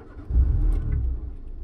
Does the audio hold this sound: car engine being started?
yes